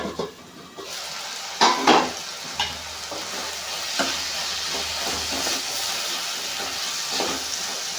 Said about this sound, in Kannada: ಸ್ವಲ್ಪ ಫ್ರೈ ಆಗಲಿ ಟೊಮೆಟೊ ಎಲ್ಲ ಅದನ್ನು ಸ್ವಲ್ಪ ಮೇಲೆ ಮುಚ್ಚಿಕೊಳ್ಳಿ